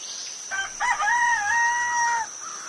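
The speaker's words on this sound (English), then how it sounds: "The rooster sings at daybreak." A rooster gives a single clear crow, a rising then sustained cock-a-doodle-doo call lasting about two seconds, up close over a faint steady background tone.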